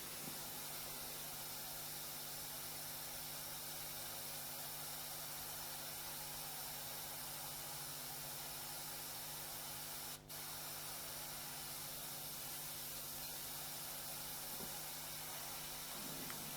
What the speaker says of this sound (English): You can see as I'm spraying, what I'm doing is I'm putting a layer of paint on